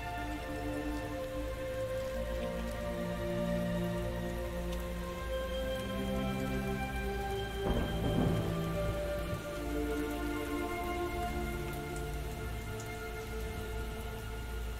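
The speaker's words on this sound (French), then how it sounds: "La pluie lave la forêt" Rain pours down on a forest in a video game, a steady, dense patter that holds evenly throughout, with a faint rumble and a brief swell of heavier drops midway.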